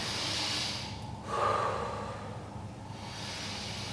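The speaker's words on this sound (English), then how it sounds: "We're going to go 3 big breaths again." Deep breathing during a workout cool-down: a long, airy inhale and exhale with a brief stronger gasp partway through, close to the microphone, with no talking.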